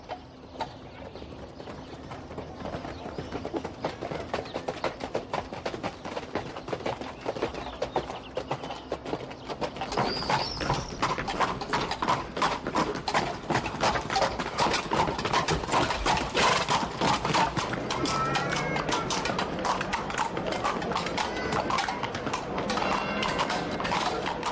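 Horses walking on a ride from Trujillo to Cáceres, hooves clip-clopping in a steady rhythm close by; the beat grows louder and busier partway through as more hooves join, with faint creaks of tack and a brief whinny.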